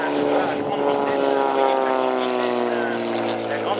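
A Morane 733 propeller plane makes a high-speed pass at an air meeting in Belvès, its loud engine drone sliding steadily down in pitch as it roars past close by.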